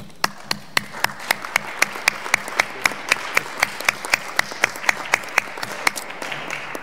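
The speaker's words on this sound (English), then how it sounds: "I would like to ask you, as I will do, to applaud them" Audience applause for a panel at a local energy governance event, heard as a steady series of sharp, evenly spaced claps standing out over a softer background of hands.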